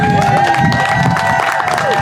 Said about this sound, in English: So now, please welcome to the podium with a great round of applause, Commissioner Lesley Briones.